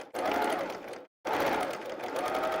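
A sewing machine stitches jelly roll quilt pieces in two steady whirring runs separated by a brief pause, close and continuous, with no talking.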